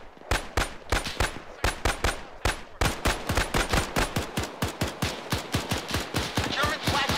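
Rapid, loud bursts of German gunfire in the WWII Tunisia campaign of the video game ArmA 3, dense repeated shots in an irregular rhythm that quickens into near-continuous automatic fire, heard close.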